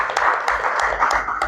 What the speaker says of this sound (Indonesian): Kita kasih tepuk tangan untuk Pak Indra Adil.